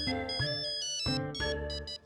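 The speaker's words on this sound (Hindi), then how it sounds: "अब ये किसका वक्त का फोन आ गया?" A phone ringing with a repeating electronic ringtone melody, two clear bursts of bright tonal notes, loud and close with no talk over it.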